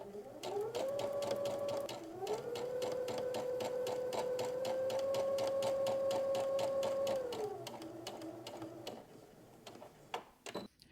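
A sewing machine stitches a skirt seam, its rapid ticking needle rhythm rising to a steady motor whine, easing off, then a few scattered clicks as stitching ends.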